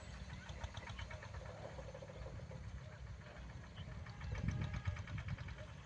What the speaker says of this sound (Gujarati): આ છે મિની ટ્રેક્ટર